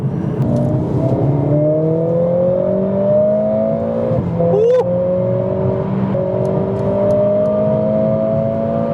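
A Mercedes-AMG CLA45S engine revs up with a rising, throaty tone, breaks off briefly at a shift, then climbs again, loud and close.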